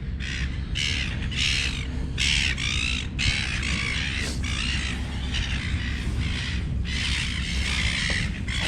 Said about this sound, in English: the seagulls are singing me the song of their people